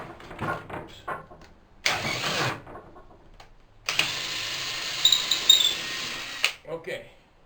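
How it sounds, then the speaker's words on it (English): A power drill bores a hole straight through the wooden support of a handmade Morris chair, running in a short burst and then a longer steady run of a few seconds, close and loud, with quieter handling noises in between. "I will proceed to drill the hole all the way through"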